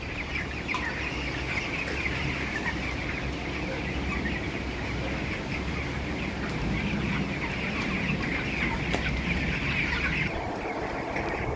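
Dense, continuous clucking and chatter from many broiler chickens in hot weather fills a poultry farm room, a steady crowded flock murmur with no pauses and no talking.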